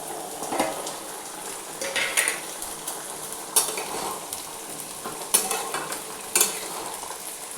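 Papaya curry cooking in a pan, a soft steady sizzle and bubbling with occasional clinks and scrapes of a spoon or lid against the pan, close and alone with no talking.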